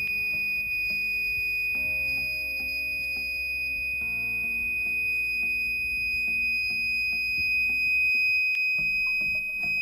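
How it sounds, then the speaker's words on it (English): Handmade rain alarm circuit built around a BC547 NPN transistor gives a steady electronic buzzer tone, a high continuous beep that persists over a low background hum and shifting mains-like tones. "buzzer should give a beep"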